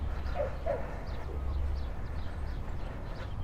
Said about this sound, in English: That's why there's all these dogs.